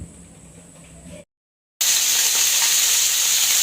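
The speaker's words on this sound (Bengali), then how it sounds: "এদিকে ট্যাংরা মাছ রান্না করতেছি, আগে ভাজি করে দিচ্ছি।" Tangra fish frying in a pan: a steady, loud sizzle with faint stirring, cut by a half-second gap of silence before the frying resumes even louder and continues unbroken.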